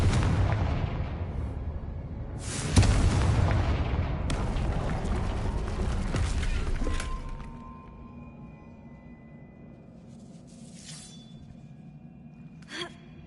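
A Confringo blasting spell explodes in Hogwarts Legacy, a loud sharp boom followed by a long rumbling roar that fades into quiet ambience with faint later clinks.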